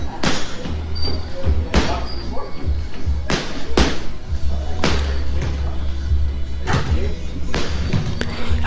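Boxing body shots land in training as a steady series of solid, close thuds about once a second, over a low background hum.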